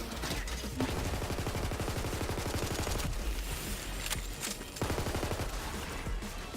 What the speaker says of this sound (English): I want to hit you with my big shotgun.